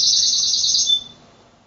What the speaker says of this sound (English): Song sparrow is one of our other most common birds.